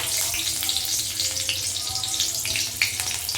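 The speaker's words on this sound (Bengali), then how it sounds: "কড়াইতে সর্ষের তেল গরম হতে দিয়েছি তেলের ভেতর দিয়ে দিচ্ছি দুটো কাঁচা লঙ্কা" Two green chillies spit and crackle in hot mustard oil in a kadai, a close, continuous sizzle with small sharp pops scattered through it.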